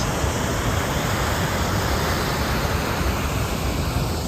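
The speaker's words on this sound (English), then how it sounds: "So this waterfall that is behind me" A loud, constant roar of Stora Sjöfallet waterfall in Swedish Lapland, dense and unbroken from start to finish, with no voices.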